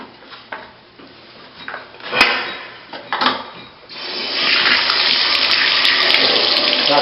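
Water runs steadily from a bathroom sink faucet during a home inspection in Carrollton, Texas, after a few handle knocks and clunks, then a broad continuous gush fills the last three seconds close and loud.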